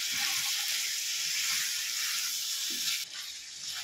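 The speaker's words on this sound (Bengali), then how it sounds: "ভালো করে এটা নেড়ে চেড়ে আবারও কষিয়ে নেব।" Spices and bottle gourd with lentils sizzle steadily in a pan as they are stirred, a continuous close frying hiss with a brief drop in intensity near the end.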